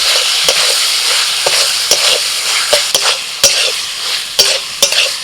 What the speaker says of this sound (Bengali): আরও দু মিনিট নাড়াচাড়া করে নিয়ে এবার দিয়ে দিচ্ছি আমি টমেটো কুচি